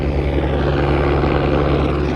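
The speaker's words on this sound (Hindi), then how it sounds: "ये ठीक सामने हेलीपैड, मतलब हेलीकॉप्टर आ रहा है" A helicopter approaching a helipad on the Kedarnath trek, its loud, close, steady rotor and engine roar filling the whole stretch with a constant low throb.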